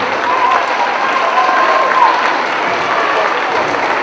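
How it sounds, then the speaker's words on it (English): Crowd applauding at a girls basketball game, Edgar at Auburndale, a steady broadband wash of clapping that holds for several seconds with a faint voice over the top. "Please give a big round of applause, girls, for your coaches"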